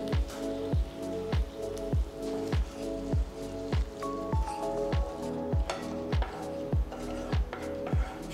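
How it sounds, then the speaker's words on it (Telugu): Soy sauce, chilli sauce and tomato ketchup are stirred together for chicken lollipops, making a steady rhythm of wet squelching strokes about twice a second, close and alone, with a faint tonal hum underneath. "2 టేబుల్ స్పూన్ల టొమాటో కెచప్ వేసి బాగా కలపాలి."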